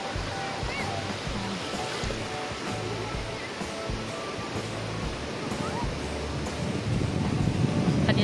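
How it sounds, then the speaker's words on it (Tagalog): Ocean surf rolls steadily onto Bagasbas beach, a continuous broadband wash that swells louder near the end, with voices of people chatting over the waves. "Oh, tingnan mo, may wave."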